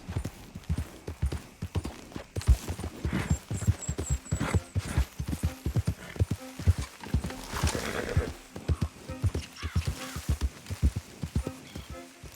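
Horse hooves clip-clop in a steady, brisk rhythm on the ground in Red Dead Redemption 2, loud and close, with a little voice and a faint whinny-like tone mixed in.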